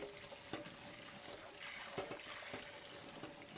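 Water runs steadily from a kitchen sink tap while produce is rinsed underneath, a continuous close trickle and splash broken by a few soft knocks and handling sounds.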